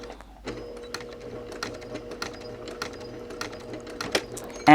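Sewing machine stitching a potholder seam on a 5/8 inch line, running in steady rapid bursts with a forward pass and a back tack, close and clear with no talking.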